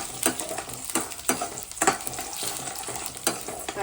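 Chana dal, urad dal, peanuts and cashews fry in hot oil after mustard seeds pop, as a tempering for raw mango uppudu pindi. Soft, steady sizzling carries on throughout, broken by repeated scraping stirs.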